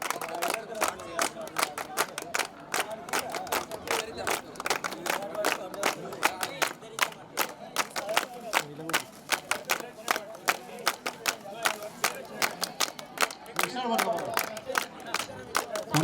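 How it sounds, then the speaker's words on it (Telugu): A village crowd at a reunion gathering claps hard and steadily, dense rhythmic claps mixed with cheering and shouting voices throughout. "ఎంకరేజ్మెంట్ గట్టిగా బిగ్ క్లాప్స్"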